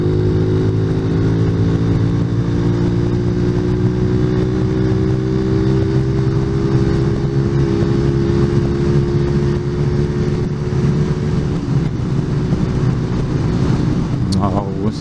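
Engine drone of a small motorbike ridden slowly in traffic behind cars, a steady loud hum with shifting tones throughout, carrying on alone without speech.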